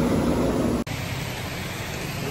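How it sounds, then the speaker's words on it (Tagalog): Steady broadband rain hiss during a motorcycle ride on a Honda CBR650R, continuous and fairly loud with wind noise, broken by one brief dropout partway through. "Ulan na guys."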